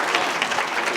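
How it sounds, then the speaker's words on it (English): Applause from a small group of guests at a ceremony held in a tent, steady and fairly close, with no talk over it. "we have a round of applause, please?"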